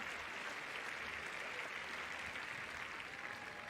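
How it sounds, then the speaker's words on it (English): A big stadium crowd roars and cheers at a women's 100m sprint, a dense, steady wall of applause and voices holding at a constant level throughout. "Now listen to the cheer."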